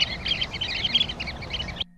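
Sanderling calls: a dense, continuous run of high, thin chattering chirps, fairly loud and close, heard alone and cutting off abruptly near the end.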